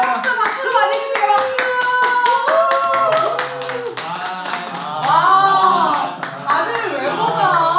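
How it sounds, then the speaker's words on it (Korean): Applause greets a family being introduced at a children's church program, with crisp close hand claps throughout while voices talk and call out over them. "박수로 맞이해주세요."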